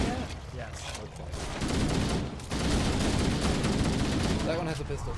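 Rapid gunfire in the video game Halo, a dense continuous barrage of shots close and loud, with a brief dip midway before the firing resumes; no clear speech over it.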